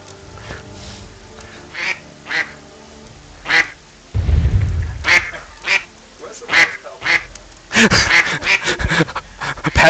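Repeated short cartoonish duck quacks from a video game livestream, several bursts spaced irregularly over a few seconds, mixed with excited gamer voices talking over them.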